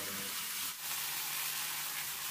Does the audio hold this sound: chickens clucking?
no